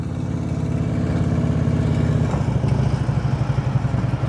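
A motorcycle engine holds a steady low idle-to-light throttle drone during slow-speed U-turn practice around cones, using the clutch friction zone and rear brake, with a faint rhythmic pulsing throughout and no voices.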